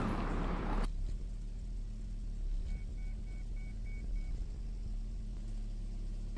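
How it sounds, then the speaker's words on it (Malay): A Proton Saga VVT with CVT idles in reverse while RPM rises, giving a low steady engine hum with faint beeps. "sama juga kita tunggu engine speed ataupun engine RPM naik pergi setengah"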